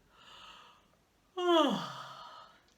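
One person yawns: a soft breathy inhale, a short pause, then a loud, drawn-out voiced yawn that falls in pitch and trails off into a sighing exhale, close and alone.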